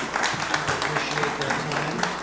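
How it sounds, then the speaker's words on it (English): An audience at a church fellowship event applauds its guests with steady, moderately loud clapping from many hands, while a voice talks over it. "let's give a big round of applause for our guests."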